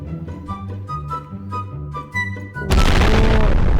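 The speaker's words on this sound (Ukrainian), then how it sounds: "Воу, це гігантська бомба." A giant bomb from the GWarheads addon detonates in Garry's Mod, a sudden loud broadband blast after a stretch of game music, roaring on and filling the rest of the moment at full volume.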